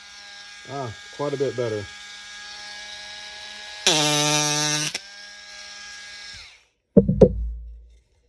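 A Ryobi power carver buzzes through wood in a long steady run, cutting first against the grain and then with it, with short bursts before and after; someone talks briefly.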